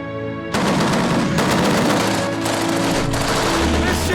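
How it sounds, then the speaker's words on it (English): Rapid gunfire rakes a white Mitsubishi Evo from about 600 metres away, loud sustained bursts of machine-gun fire that begin abruptly and continue almost without pause. "They're shooting hard now! I'm taking hits!"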